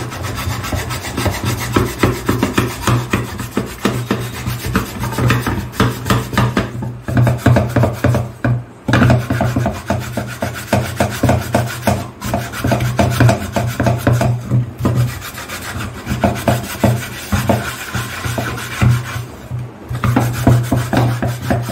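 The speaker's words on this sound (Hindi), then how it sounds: "थोड़ा आपको मजबूती से घिसना पड़ेगा इसको जब आपको एकदम क्लीन चाहिए" Stainless steel vessel being scrubbed firmly with Boom Wash cleaner, a steady close rasping rub that repeats in quick strokes with brief pauses, alone with no talk.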